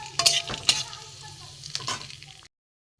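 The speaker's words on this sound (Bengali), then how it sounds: "আমি সর্ষে তেল দিয়ে গোটা জিরে, গোটা গরম মশলা, তেজপাতা দিয়ে দিয়েছি।" Whole cumin, bay leaf and whole garam masala of cardamom, cloves and cinnamon tempering in hot mustard oil, a close, crackly sizzle with a few sharp stirring clinks and scrapes, cut off abruptly near the end.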